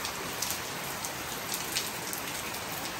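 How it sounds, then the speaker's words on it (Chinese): Morning rain falls steadily and close by, a dense unbroken patter on surfaces with scattered louder drops and no speech. "结果早上就下雨了。"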